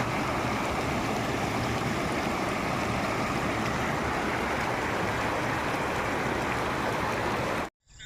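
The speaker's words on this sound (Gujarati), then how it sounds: "હવે નદીમાં પાણી કેવું આવે છે જોઈવી અને બતાવી." A river swollen after about half an hour of heavy rain rushes loudly and steadily past farmland, a constant dense roar of flowing water that cuts off abruptly at the end.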